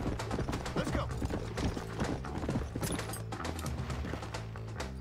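Horse hooves clip-clop in the Red Dead Redemption video game, a busy, dense rhythm of hoof beats mixed with clattering and other game sounds throughout.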